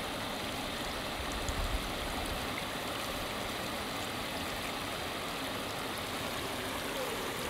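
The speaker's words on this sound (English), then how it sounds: "I love the sound of water." Water pours steadily through a water feature at a botanic garden, a constant rushing, splashing wash heard at moderate level without pauses, no one speaking over it.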